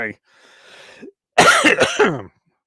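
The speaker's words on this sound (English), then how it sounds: "having a bit of a coughing spell." A person coughs and clears their throat close up, a rough raspy burst followed by a pause and then a couple of harsher coughs.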